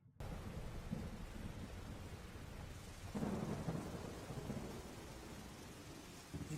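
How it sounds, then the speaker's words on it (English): Steady rain and rolling thunder from a Naruto Shippuden anime scene, a continuous downpour with a heavier thunder rumble swelling midway, no voices. "Strange, there usually isn't this much rain around here this time of year."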